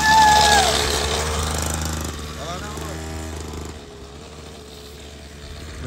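A mini motorbike's small engine buzzes and revs on a ramp, loud and close at first and then easing off into a steady drone, while people shout over it.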